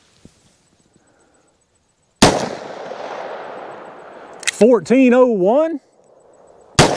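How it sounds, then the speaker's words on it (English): A single sharp, loud gunshot from an unported Ruger GP100 revolver, followed by a long ringing decay. A voice talks over the tail, and a second shot cracks at the very end. "here we go with 5 rounds out of the unported GP100"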